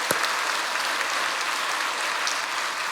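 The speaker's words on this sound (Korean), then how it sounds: "박수로 영광 돌리기 바랍니다" Congregation applauding in a church during a 50th anniversary thanksgiving service, a steady, dense wash of clapping held evenly for the full stretch with no voices over it.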